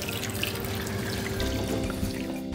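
Water pours steadily into a cooking pot of stewed pineapple pieces, a continuous close rush and splash with no pause and no talking.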